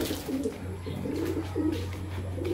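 Breeder pigeons coo steadily inside a loft, their soft, low, throaty calls repeating in overlapping phrases over a constant low hum, close and moderately loud throughout.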